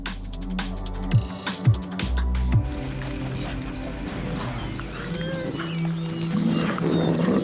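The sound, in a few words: wolf pack barking, growling and howling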